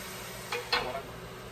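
Browned mince for spaghetti bolognese is stirred in a pan with the heat off, giving two short, soft scraping swishes close by against a quiet background.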